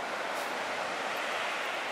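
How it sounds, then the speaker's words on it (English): Ocean waves on the California coast make a steady, soft, continuous roar of surf with no voices. "I love the sound of the waves."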